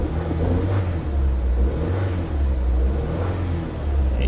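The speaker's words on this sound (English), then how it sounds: "You give it a little gas, it cleans up." Damaged auction car with its engine given a little gas, a deep, close rumble that swells in several short revs and settles between them.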